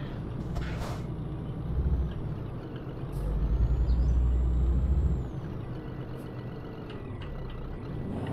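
Truck braking in the Scania Truck Driving Simulator game, a low engine rumble with an air-brake hiss and a deeper swelling drone in the middle, no talk.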